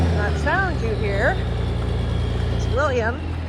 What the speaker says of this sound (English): is William bringing the dozer up as a fail-safe